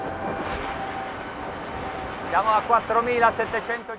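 A Mercury 450 R outboard drives a boat at speed, making a steady roar blended with rushing wind and water. Someone talks over the noise during the second half.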